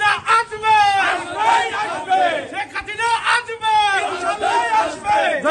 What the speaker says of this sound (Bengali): রাস্তায় স্লোগান দিচ্ছে ছাত্রলীগ